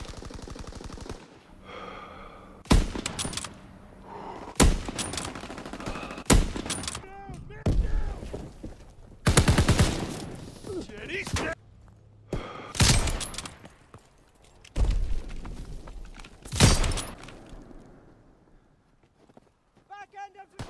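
Sniper and rifle fire from the World War II shooter game Call of Duty WWII: sharp, loud gunshot cracks repeating every couple of seconds, mixed with shouted voices and battle noise.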